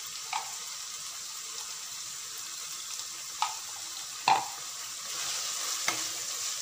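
Minced beef fries with yogurt and spices in a pan, a low steady sizzle broken by a few distinct scraping knocks from a stirring spoon, fairly quiet and close, with no voices.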